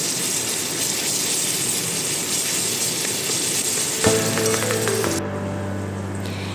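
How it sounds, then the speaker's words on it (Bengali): Garlic paste frying with already browned onions in a pan, a steady broadband sizzle for most of the stretch that shifts toward a softer tonal hum near the end. "রসুন বাটাটা যতক্ষণে ভাজা হচ্ছে"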